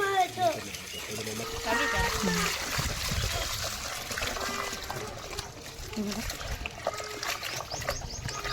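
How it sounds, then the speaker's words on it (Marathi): Potatoes are washed in water by hand before boiling for grated potato, with splashing, sloshing water heard up close throughout and a voice and some talk in the background. "तर पण आपण इथं धुवून घेऊ स्वच्छ"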